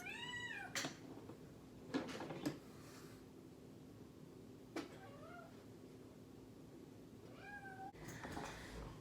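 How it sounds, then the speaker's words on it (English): Two kittens meow in a quiet room, a few thin, high rising cries spaced apart across several seconds with soft clicks and faint background hum, no talking. "We got cats. I know y'all hear them."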